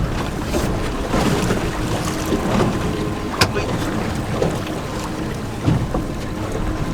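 Yamaha outboard motor driving a small boat on open water, a steady broadband engine drone mixed with water rush and wind buffeting on the microphone, fairly loud and continuous with a few brief knocks.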